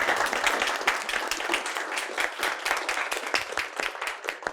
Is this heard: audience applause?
yes